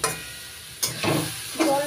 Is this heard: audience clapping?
no